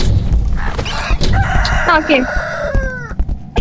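Chickens cluck and a rooster crows in the Roblox game Deadly Delivery, loud and close, with a voice speaking briefly over them.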